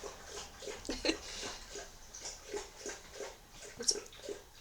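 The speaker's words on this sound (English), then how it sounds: "My dogs drink water really noisily while I'm recording videos." A dog drinks water noisily up close, making a steady rhythm of wet lapping and slurping at an even pace, with no talking over it.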